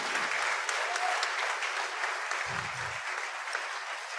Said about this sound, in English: give John a round of applause